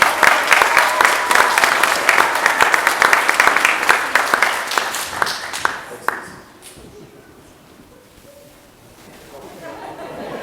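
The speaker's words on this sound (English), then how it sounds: "Give them another round of applause." Banquet audience applauding warmly at a Cub Scout Blue and Gold dinner, dense clapping with light chatter that fades out after about six seconds into quiet room murmur.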